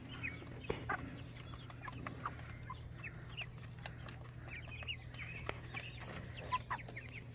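Chickens, including big white broilers, clucking while eating sunflower seeds mixed with sweet feed, scattered soft clucks and peeps over a steady low hum, close and moderately quiet with no talking.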